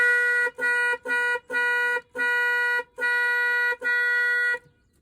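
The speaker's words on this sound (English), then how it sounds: "The people in the fire truck were honking at us, and it sounded like this." A fire truck's car-style steering-wheel horn, not its air horn, honks seven times in a row, loud and close, with steady blasts separated by short gaps, then stops.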